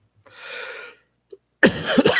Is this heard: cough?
yes